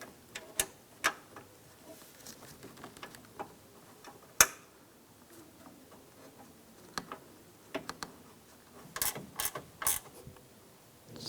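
Bolts being snugged down on the radiator latch of a 2004-2009 Toyota Prius during a radiator and condenser fan replacement: scattered close clicks and ratcheting ticks from a hand tool, with sharper clusters of clicks near the end.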